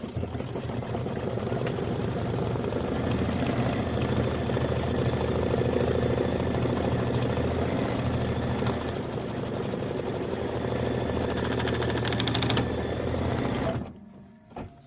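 Kimberbell embroidery machine stitching a Heart and Home door decor design in a 5x7 hoop, a steady close mechanical whir with rapid needle chatter that stops abruptly near the end.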